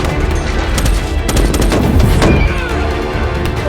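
Dense, loud automatic gunfire fills a Transformers film battle scene. Rapid overlapping bursts and booming impacts form a continuous, heavily layered barrage throughout.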